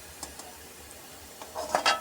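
Crispy deep-fried masoor dal piyaji fritters being handled, giving a few faint light clicks early on, then a louder burst of crunchy rustling and crackling near the end, close by with no talk.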